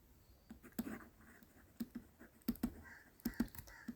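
Faint computer keyboard typing, a handful of scattered soft key clicks in short bursts over a quiet background.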